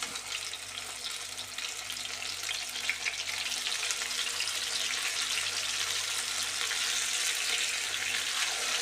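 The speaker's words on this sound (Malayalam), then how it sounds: "ബാക്കിയുള്ളതും കൂടി നമുക്കൊന്ന് ഫ്രൈ ചെയ്തെടുക്കാം" Sliced eggplant sizzles steadily in a hot frying pan, a dense continuous crackle of oil that grows slightly louder partway through, with no talking.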